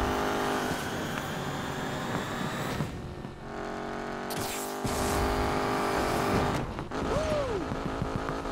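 A Mercury Cougar drag car in Need for Speed Payback accelerates hard on nitro, the engine roaring and climbing through gears with brief shifts and a rising whine, loud and close throughout.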